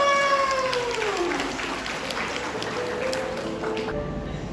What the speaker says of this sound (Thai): เสียงปรบมือให้คุณ แม่ด้วยค่ะ